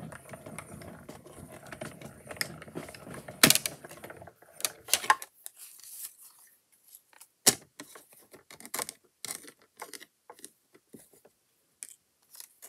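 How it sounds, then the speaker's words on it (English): A die cutting machine pushes paper stars through, giving a mechanical rumble at first, then sharp clicks and clacks at irregular intervals with quiet pauses between them. "some people haven't used the die cutting machine"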